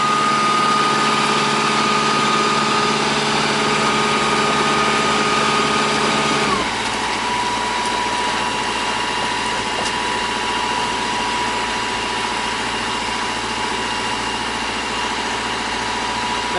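A boat engine on the Norfolk Broads hums loudly and steadily nearby, then its pitch and tone shift partway through as the power changes, continuing as a constant mechanical drone.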